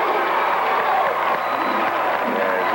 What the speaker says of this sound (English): As you may tell by the crowd response in the background, he nailed the first one home